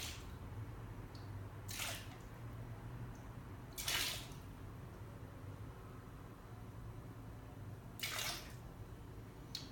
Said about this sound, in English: I'm going to just pour a few little stripes of white over my green.